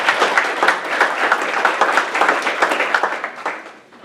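A business-community luncheon audience claps as a guest is called up to the stage, a fairly loud, close wash of many hands with distinct sharp claps, fading out near the end.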